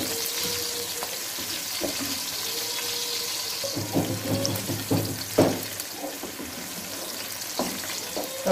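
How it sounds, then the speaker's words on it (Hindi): Onions hit hot cooking oil for an anda aloo curry, a soft steady sizzle that swells with crackling bursts and stirring in the second half, with no talk. "कुकिंग ऑयल गर्म हो गया है, अब हम इसमें प्याज डाल रहे हैं और प्याज को हम फ्राई करेंगे"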